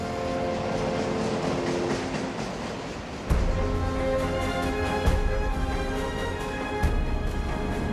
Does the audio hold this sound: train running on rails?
yes